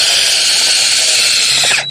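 A drill fitted with a small auger bit bores steadily at close range, giving a loud, high whine for nearly two seconds before it winds down abruptly.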